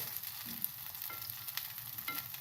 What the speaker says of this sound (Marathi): जरा त्याला मंद आचेवर हवं तर तुम्ही असं बाजूने तेल घेऊन त्याला वरतून सोडू शकता